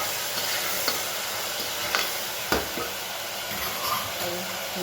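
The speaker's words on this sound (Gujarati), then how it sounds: "સરસ ચલાવીને તેલમાં થવા દઈએ." Vegetables, washed before cooking, stirred in hot oil in a home kitchen pan: a steady broadband sizzle with a few sharp scrapes and knocks of the spoon against the pan, close and fairly loud, with no talking.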